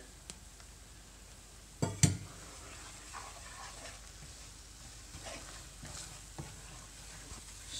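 Spices stirred into a butter chicken base frying in a pan, a quiet continuous sizzle broken by a cluster of loud clattering knocks early on and softer scrapes and taps after.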